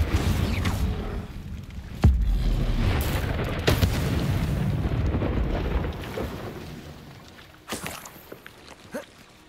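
Fire spell Incendio blasting in Hogwarts Legacy, a sudden deep boom followed by rumbling crackle and scattered thuds and footsteps, fairly loud with no voices.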